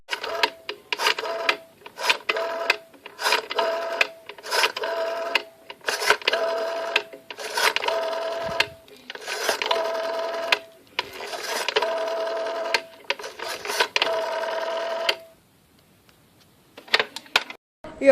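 Rotary telephone dialed by hand to reach the police, a repeated series of clicking, whirring dial turns with short gaps between digits, close and clear, ending in near silence.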